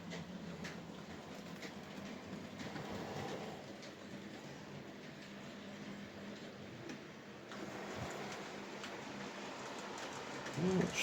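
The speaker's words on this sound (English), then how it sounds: "that's it on the track now, connected up to the rest of the train with locomotion number 1 pulling it" A model train wagon rolls along its track behind a locomotive, a faint steady rumble with light clicking across the track joints, heard alone at low volume.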